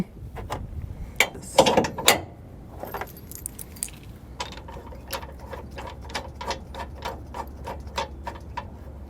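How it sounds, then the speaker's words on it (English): Heavy-duty forged steel ball mount with a 2-5/16 inch ball sliding into a trailer hitch receiver tube: a loud scrape and clunk early, then a steady run of sharp metallic ticks and clicks, close and alone. "Simply just slide it in until your pinhole lines up."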